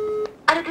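A telephone call rings out with a short steady ringback tone, followed by a brief louder burst of sound.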